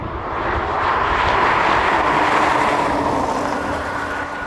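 BMW M340i, Audi S5 and AMG C43 accelerating together in a drag race, a loud, broad, steady engine roar that swells slightly and holds for several seconds, with no talking.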